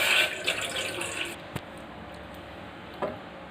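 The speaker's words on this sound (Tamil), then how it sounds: "ஒரு பாத்திரத்தில் கொஞ்சமாக தண்ணி ஊற்றிக்கலாங்க." Water pours into a cooking vessel in a kitchen, a steady splash that stops after about a second, followed by a couple of faint clicks in a quiet room.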